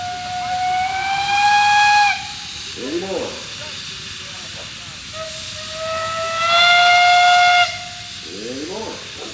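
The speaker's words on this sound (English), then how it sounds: "you got a whistle." A steam traction engine in a Fourth of July parade gives two long, loud blasts of its steam whistle with a hissing edge, separated by a pause, while someone talks between them.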